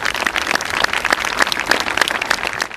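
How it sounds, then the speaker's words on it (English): At an outdoor Marine Corps graduation, an audience claps in a loud, fairly regular rhythm, with strong individual hand claps standing out over a wider spread of clapping. "So I get a round of applause for both the TBS"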